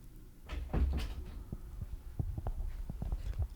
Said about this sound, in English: Had to close my door.